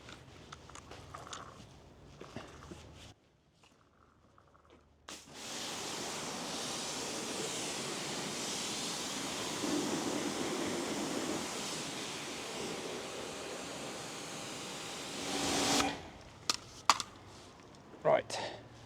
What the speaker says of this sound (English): I'm going to give this a good jet wash off